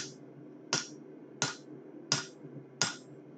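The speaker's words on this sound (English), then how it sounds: "And so now we are going to hammer directly." Hot metal being hammered at a smithy: five sharp, ringing blows at an even pace, close and clear over a low steady hum of shop noise, with no talking.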